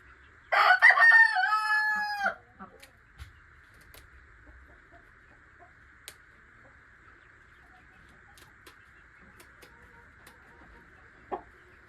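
A rooster crows loudly once at the start, a long drawn-out call, followed by near-silence broken only by a few faint clucks and scattered soft taps.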